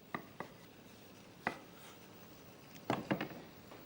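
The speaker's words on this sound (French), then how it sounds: "il nous reste à couper en rondelles le turbo et les kénopodes" A knife cuts rolled goosefoot leaves into rounds about 2 cm thick for steaming. About six quiet, sharp taps fall at irregular intervals, with a quick cluster near the end.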